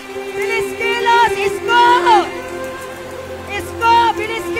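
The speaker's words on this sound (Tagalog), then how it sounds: "Masarap pamaligo sa ulan." Rain falls steadily at an outdoor political rally in Cebu, a constant wash beneath loud voices and crowd noise throughout.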